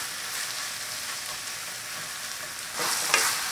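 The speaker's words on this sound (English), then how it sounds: "Just keep stirring until cabbage is withered and cooked." Kimchi and onion stir-fried in oil in a pan over medium-high heat, giving a steady broadband sizzle that swells louder toward the end as the mix is stirred, with no voices.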